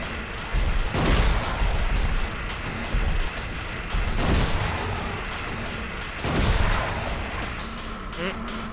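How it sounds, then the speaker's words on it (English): Shotgun blasts in the survival-horror game Silent Hill 2 Enhanced Edition, three loud booming shots spaced a few seconds apart over a dark ambient game backdrop, with faint voices around them. "I feel like shotgun could be good here."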